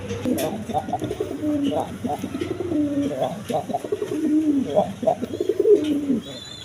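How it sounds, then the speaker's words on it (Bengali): Pigeons cooing close by, a string of soft, throaty rolling coos one after another in an uneven rhythm, with a voice talking underneath. "দেখেন আজকের কবুতরগুলো একবার ডাকাডাকি লাইনে"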